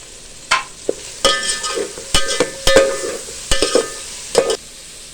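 Beef qeema and tomatoes sizzle in a pot while a spoon scrapes and clacks against the metal in irregular strokes, close and fairly loud, with no talking.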